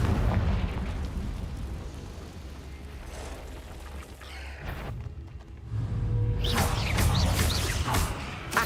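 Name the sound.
Confringo spell explosions in the video game Hogwarts Legacy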